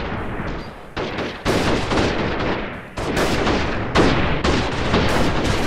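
Rifle fire in the video game Freeman Guerrilla Warfare: loud, close bursts of repeated shots across an open field, with brief gaps between volleys and sharp cracks that re-attack every second or so.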